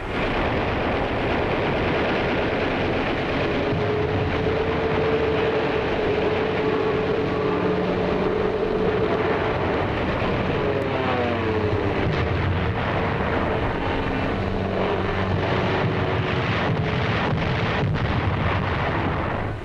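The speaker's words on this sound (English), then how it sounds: "Jap suicide pilots attempt to crash their planes into our ships as Navy cameramen record the battle." Navy ships under attack by Japanese suicide planes in 1945 newsreel footage: a dense, continuous roar of battle noise, with heavy rumbling and bursts that suggest explosions and gunfire, loud and sustained throughout.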